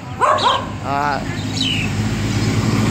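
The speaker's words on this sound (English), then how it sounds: "they're selling dogs here. There are chihuahuas here." Chihuahuas yap in short, high-pitched bursts, a few quick barks close by at a market in Tân Châu, An Giang, Vietnam, with a voice and busy background noise around them.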